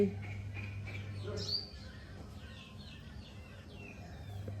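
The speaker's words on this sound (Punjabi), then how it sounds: "ਕਿਤੇ ਚਿੜੀਆਂ ਦੀ ਚੀਂਚ" Sparrows chirp in short, scattered bursts at a distance, faint above a low steady hum of outdoor background noise.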